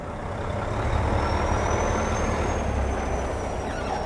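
A big truck idles nearby with a steady, loud low engine rumble, and a faint high whine drifts above it throughout.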